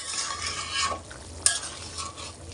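Dhoka curry bubbling in a pan after garam masala is added, a close sizzle and simmer with scraping stir strokes and one sharp clack of a spoon against the pan.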